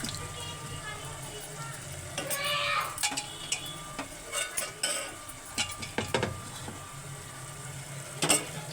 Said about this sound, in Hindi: तो चलिए, मैं इसमें राजमा डाल देती हूँ।